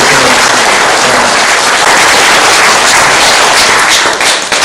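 Audience applause at an indoor forum lecture, a dense wash of many hands clapping loudly and steadily for several seconds, close and continuous with no talk over it.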